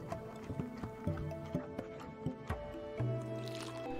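A coconut soap mixture is worked by hand, giving soft, wet squelches and squishes in an irregular rhythm, close and fairly quiet, with a few light taps.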